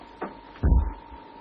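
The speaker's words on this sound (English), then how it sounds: "Number one tube fired" A submarine torpedo tube fires in a 1943 wartime film, a brief hiss followed by a heavy, low thump and rumble over a steady background hum.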